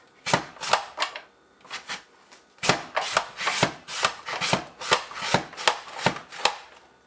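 A potato dropped onto a slicer and cut into julienne hash brown strips, giving a quick series of sharp, crisp chopping strokes in a fairly steady rhythm, close up with no talking.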